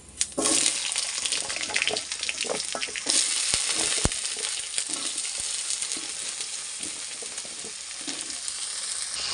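Vegetables hiss loudly into hot oil with cumin seeds, dried red chilies and green chilies, a broad steady sizzle punctuated by scraping stirs and sharp clicks of a utensil against the pan.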